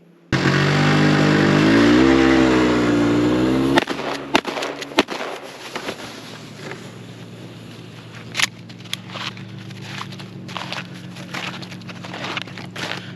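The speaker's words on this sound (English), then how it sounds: "Three shots off with the old Mossberg pump." A Mossberg Model 500 12-gauge pump shotgun firing Brenneke slugs at a target, a few sharp loud blasts standing out after a steady engine-like hum fades, with quieter rumbling and scattered thumps between them.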